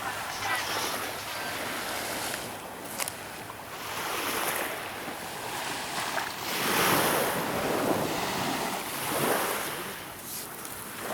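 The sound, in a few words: sea waves on a beach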